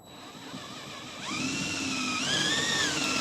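A power drill boring a hole in a birdhouse workpiece at fast speed with light pressure, a steady high whine that rises in pitch and grows louder partway through.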